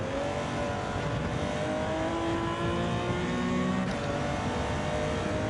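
A race car in Gran Turismo 7 holds a steady, loud engine drone, with pitch steps as it drops gears, close and continuous with no talk.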